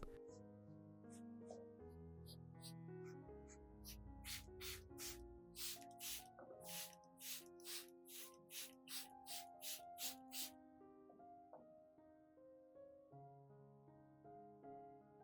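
A series of short, sharp sprays from a spray bottle misting a Phalaenopsis orchid hisses about a dozen times in quick rhythm over a background of soft melodic music.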